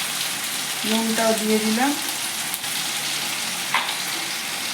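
A spice paste of green chilli paste, Kashmiri chilli powder and turmeric sautés in a pan with a steady close sizzle, while a person talks briefly.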